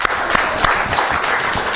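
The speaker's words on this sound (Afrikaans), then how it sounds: "Ons gee hulle lekker hande klap" Applause from a gathering celebrating an elderly couple's wedding anniversary: a steady patter of many hands clapping close by, continuous and fairly loud throughout, with no voices over it.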